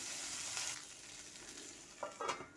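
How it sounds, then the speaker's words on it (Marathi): Okra sprinkled with salt fries in a pan, a soft, steady sizzle near and fairly quiet, with a few louder stirring scrapes toward the end. "भेंडी आपल्याला डाग पडतील इतकी भाजून घ्यायची आहे"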